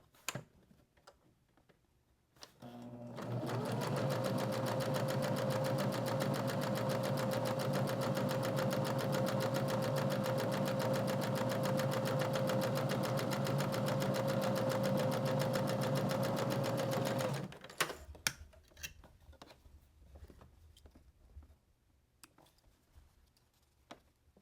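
A sewing machine chain-pieces fabric for a journal cover in one long, steady run of about fourteen seconds, its motor whirring evenly with a fast ticking needle, then stops, leaving faint handling sounds.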